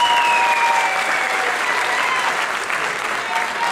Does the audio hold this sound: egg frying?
no